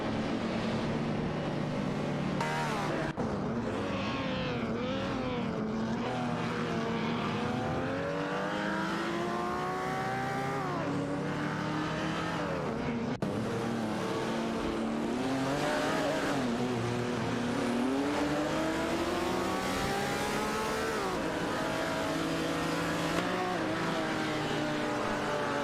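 Race cars in an AI-driven racing video game, among them a Porsche 911 RS, roar continuously with overlapping engine pitches rising and falling through gear changes, loud and steady throughout with no talk.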